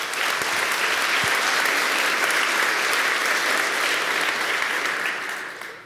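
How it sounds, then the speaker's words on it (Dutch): Attendees at the closing session of a Drupal community event give a round of applause, a full, continuous patter of many hands that holds steady and fades slightly at the end. "ook daarvoor even een klein applaus"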